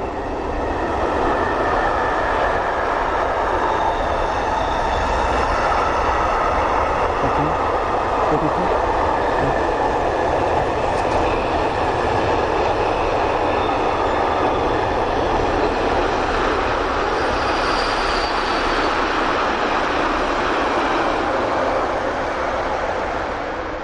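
A train rolls past close by, a loud, continuous rumble and rattle of wheels on track that holds steady for the whole stretch.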